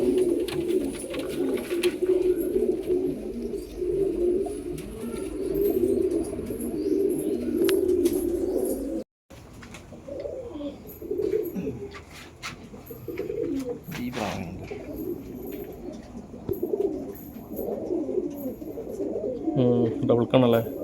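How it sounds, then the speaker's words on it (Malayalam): Pigeons brought from Nagercoil and Nagapattinam coo in a loft, low rolling calls repeating close by with occasional flutters, while someone talks over them; a brief dropout breaks the sound midway. "നാഗർകോവിൽ, നാഗപട്ടണം എന്നെല്ലാം കൊണ്ടുവന്ന പ്രാവുകളാണ് മൊത്തം ഉള്ളത്."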